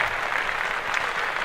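Applause on a podcast, a steady, dense patter of clapping hands that holds even throughout the short burst, with no talk.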